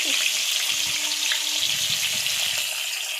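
Stuffed brinjals sizzle loudly in hot oil with mustard and cumin seed tempering, a dense, steady frying hiss with light stirring noises throughout.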